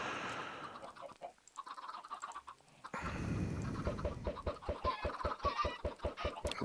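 Chickens cluck in Minecraft, a rapid series of short, rhythmic game clucks following a quieter stretch of softer background sounds, with no talking.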